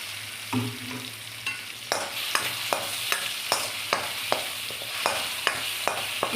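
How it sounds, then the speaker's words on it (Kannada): Ground coconut and green chili paste fry in a pan for tomato rasam, a hissing sizzle punctuated by regular, fairly loud scraping strokes of a spatula, up close with no voices. "ತೆಂಗಿನಕಾಯಿ ಹಸಿಮೆಣ್ಸಿನ್ಕಾಯಿ ಎಲ್ಲ ಹಾಕ್ಕೊಂಡು ಅದು ಫ್ರೈ ಮಾಡ್ಕೊಂಬಿಡೋಣ"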